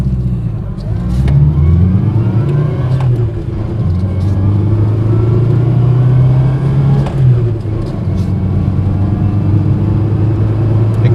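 A 1975 Austin Allegro 1100 accelerates hard from a standstill toward 60 on a quiet country road. The small engine's drone climbs in pitch, drops briefly at a gear change and then rises again, loud and close.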